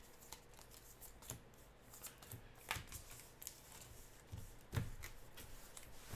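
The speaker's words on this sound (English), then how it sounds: "the way I shuffle my cards is I take the top card and the bottom card at the same time with 2 different fingers" Playing cards shuffled by hand for a Marvel Champions card game, a quick run of soft riffling and snapping bursts, close and quiet, with no talk.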